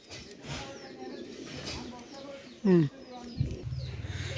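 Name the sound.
pigeons cooing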